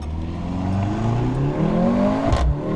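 A 2024 Mercedes-AMG GLC 43 Coupe accelerating hard, its engine note climbing steadily in pitch through a close, loud run, with a brief shift dip near the end.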